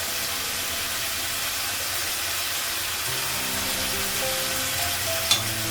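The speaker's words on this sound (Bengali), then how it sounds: "ভেজে নিব মশলা দিয়ে।" Ground spice paste sizzles in a hot pan with a steady, dense hiss, close and constant, with a faint clink near the end.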